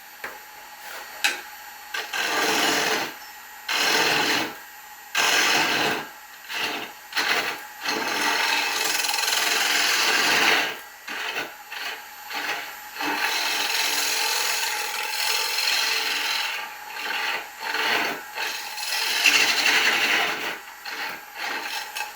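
A woodturning tool cuts and scrapes a punky wood bowl base spinning on a lathe, loud raspy bursts of varying length separated by brief pauses, close and without talk.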